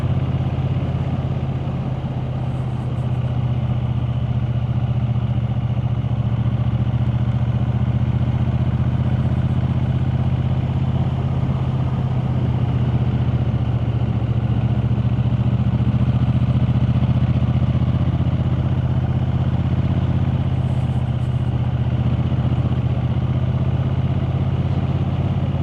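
A car engine pulling steadily in fourth gear on a climbing forest road over Bowland Knotts toward Gisburn Forest, a loud, even drone holding constant for the whole stretch with no talking.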